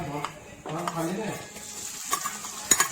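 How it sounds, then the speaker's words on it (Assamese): Finely chopped onions fry in oil in a pan while being stirred, a soft sizzle broken by scraping and clinks of a utensil against the pot, with a voice talking over the start. "সেই একে তেলতে আমি সৰু সৰুকৈ কাটি লোৱা পিঁয়াজখিনি তাতে অলপ ভাজি ল'ম"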